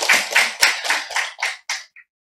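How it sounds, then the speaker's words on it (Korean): A group claps in unison during a church greeting, seven or eight sharp bursts in a steady rhythm that grow shorter and end with a single faint tap, close and loud with no talking. "박수."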